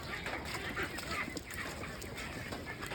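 Ducks on a duck farm honk and quack in a dense, continuous flock chorus, loud and close, with overlapping calls throughout and no talking.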